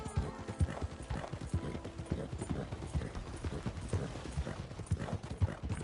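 Horse hooves clip-clop steadily on the streets of Saint Denis in Red Dead Redemption 2, a continuous trotting rhythm with ambient city noise and faint background voices.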